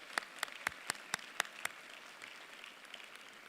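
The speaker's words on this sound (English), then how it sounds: "Please join me in giving these students a round of applause." Sparse applause at a university honors convocation: seven distinct, evenly spaced claps ring out at a moderate distance, then fade into quiet room tone.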